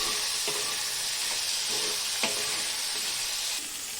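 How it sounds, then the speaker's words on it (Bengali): Potatoes and tomato fry in a pan with a dense, constant hiss, a few soft stirring knocks rising above it, close and steady throughout with no talking. "তো টমেটোটা দিয়ে আবারও 2 মিনিট ভেজে নেবো আমি এইভাবে"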